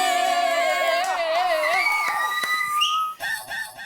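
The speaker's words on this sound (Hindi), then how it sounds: "अरे सीटी," A shrill whistle cuts in with long sliding and sustained tones, then gives way to shorter pulsing blasts amid a loud, busy background of voices and crowd noise.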